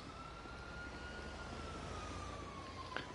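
A distant police siren in the video game GTA 5 wails faintly through a steady background hum, one long drawn-out tone sliding slowly downward, with a brief sharp click near the end.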